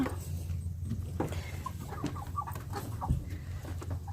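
Chickens cluck in quick, scattered bursts on the upper floor of a chicken house, a busy flock heard at close to moderate distance over a steady low background hum.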